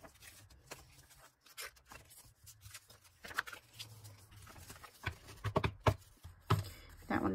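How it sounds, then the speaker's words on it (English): Bone folder creasing and rubbing paper for passport notebook bundles, a series of quiet scrapes and taps at an irregular pace, near and soft, with a few louder handling knocks toward the end. "I'm going to go back to using the bone folder"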